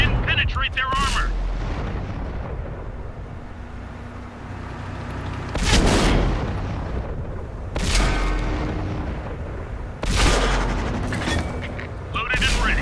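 Tank cannon shots boom and rounds ricochet off armour in World of Tanks while a Ferdinand (Elephant) tank destroyer is in battle. Several loud heavy blasts come over constant engine rumble, with a voice talking over them.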